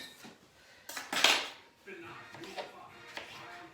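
A knife slicing thin pickle rounds on a kitchen board for beef rouladen, a few quick close clicks and scrapes with one sharp metallic clatter, while a person talks briefly.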